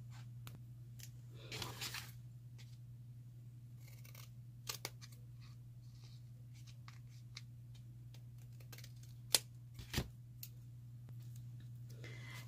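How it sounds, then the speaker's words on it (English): Scissors cutting the paper of a hot chocolate wrapper: a few sharp, isolated snips spaced several seconds apart, close by over a steady low electrical hum and otherwise quiet room. "just get a pair of scissors and just cut that little piece off."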